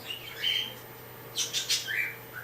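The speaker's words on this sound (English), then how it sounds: "an African grey parrot sitting with him and loads of other birds making a racket in the background" Several birds, including an African grey parrot, chirp and squawk in a lively background racket, with a whistled call early on, then a cluster of sharp squawks and a final rising chirp.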